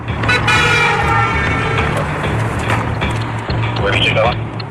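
A passing car's horn toots loudly on a busy road amid traffic noise, with people talking over it throughout.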